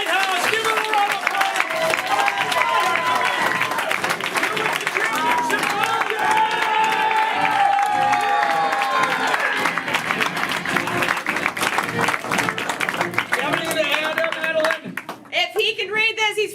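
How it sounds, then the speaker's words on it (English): Loud audience applause and cheering at a live show, with dense clapping mixed with crowd voices and shouting, continuing steadily before thinning out near the end. "let's give a big round of applause"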